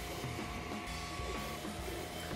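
A 3D printer runs at high print speed, its stepper motors giving off a steady mechanical whir with shifting whining tones and small rhythmic pulses, close and continuous with no talking.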